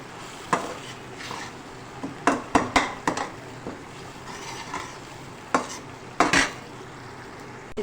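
A utensil stirs boiled mash dal in a pot for a dhaba-style lentil dish, with soft scraping and faint sizzling under sharp clinks and taps of metal on the pot, several louder knocks spaced irregularly and no talk.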